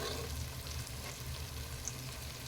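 Onions and tomatoes sautéing in a pan for mushroom biryani, a quiet, steady low sizzle with faint stirring, close by and without talk.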